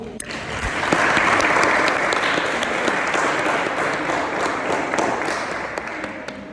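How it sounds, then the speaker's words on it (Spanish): An audience applauds steadily, dense clapping swelling in the first seconds and then holding strong before easing slightly toward the end. "les damos un fuerte aplauso"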